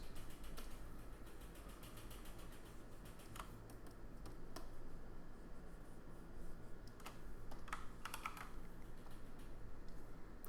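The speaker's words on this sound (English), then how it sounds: "I'm hitting Command J and Command U." Keyboard shortcuts typed on a computer keyboard during digital painting of a rocky lava background, giving sparse, quiet clicks and key taps scattered over a steady low background hum, with no talking.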